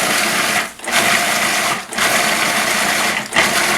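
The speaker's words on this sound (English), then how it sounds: "put them into a food processor, and we're just going to puree them and have a blueberry puree" A food processor pulses blueberries into a purée for a blueberry cobbler bread: three loud bursts of whirring motor noise, each cut by a short pause between pulses.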